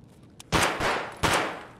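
Two loud, sharp gunshots ring out in the shooter game Escape From Tarkov, spaced under a second apart, each with a brief booming tail, following a faint earlier click.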